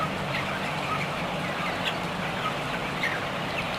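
Crippled broiler chickens in a crowded farm shed, with faint, scattered clucks and chirps rising above a steady, dense background hum of the flock.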